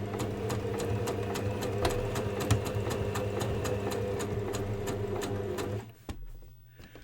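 A sewing machine stitches fabric in a fast, even run of needle clicks over a humming motor, then stops abruptly near the end after the needle catches on the fabric, leaving only faint handling noise.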